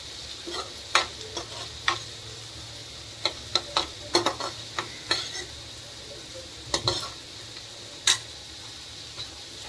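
A spoon scrapes and clinks against a pan as something roasts, with sharp irregular strikes over a faint steady sizzle and no talk.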